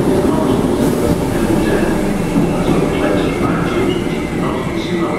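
A Merseyrail electric train at underground Liverpool Central station gives a loud, steady rumble with faint squeals and clatter as it pulls in to terminate, heard close within the echoing station.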